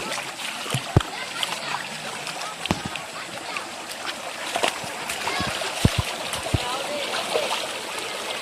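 Feet splashing through clear stream water in a deep forest near hidden waterfalls, a close, continuous sloshing with sharper splashes at irregular steps.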